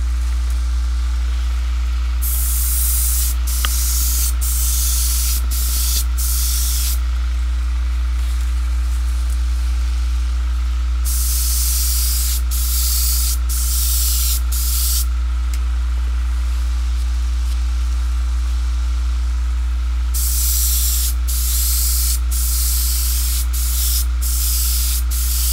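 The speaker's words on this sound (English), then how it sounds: "This is going to be a real simple airbrush job." Airbrush spraying straight black paint, a loud, close hiss in three long bursts broken by brief stops, over a steady low compressor hum with no speech.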